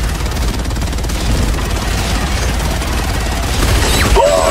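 Rocket fire against bugs in the video game Helldivers 2 makes a dense, continuous barrage of loud blasts and rumbling explosions, with a brief sharper burst near the end.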